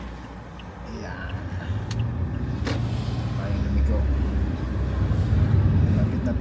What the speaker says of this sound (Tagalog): Maraming sasakyan na parating.